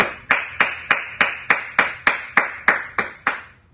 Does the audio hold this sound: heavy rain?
no